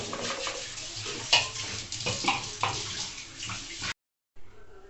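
Running water rinsing gas oven parts such as the burner cover, a loud splashing flow that surges in waves and then cuts off abruptly near the end.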